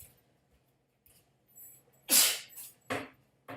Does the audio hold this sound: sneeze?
yes